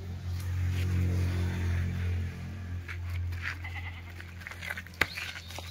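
Kathiawari goats bleat nearby, with a long wavering cry at the start followed by softer scattered calls and a sharp click near the end.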